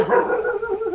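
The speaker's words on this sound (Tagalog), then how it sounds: "Ikaw po ba yung tinatahol ng aso dyan sa kapitbahay?" A dog barks at a neighbour's cat: one short, close burst of barking and yelping that lasts under a second, with no talk over it.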